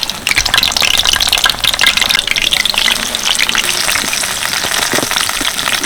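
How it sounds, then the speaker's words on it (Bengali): Battered water lily stems, still full of water, fry in hot oil with a loud, dense, continuous crackle and spatter that stays close and intense throughout. "আর শাপলার মধ্যে যেহেতু জল থাকে সেজন্য কিন্তু এরকমভাবে আওয়াজ হবে"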